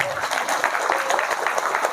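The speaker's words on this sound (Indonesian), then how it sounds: "tepuk tangan dulu" Audience clapping at a Nahdlatul Ulama 102nd anniversary gathering: a dense, steady patter of many hands at moderate volume, continuous for the whole stretch, with a voice faintly mixed in.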